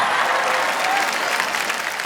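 An audience at a Hindi comedy poetry show breaks into loud, dense applause and crowd noise, sustained close up for the whole short stretch.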